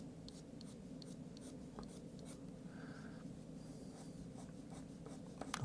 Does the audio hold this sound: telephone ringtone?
no